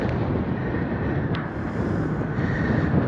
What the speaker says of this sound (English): Sorry for the wind, it is windy.